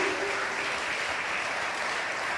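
A congregation clapping hands in a church, steady dense applause throughout, loud and continuous with faint talk beneath.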